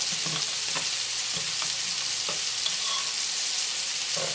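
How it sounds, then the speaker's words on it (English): Sausage wild rice casserole sizzles steadily in a pan on medium heat while a utensil stirs it, with scattered scraping clicks over the constant frying hiss. "Now we're going to stir everything together"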